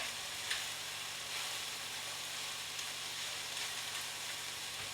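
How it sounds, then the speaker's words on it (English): Green beans and mushrooms sizzle in a pan, a faint, even frying hiss that runs continuously without any voices. "we're going to want to toss that around with the mushrooms"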